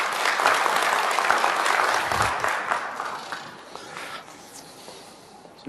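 An audience at a conference applauds a guest of honor, Mr. Oularbi. The clapping is full and lively at first, then gradually tapers off to scattered claps.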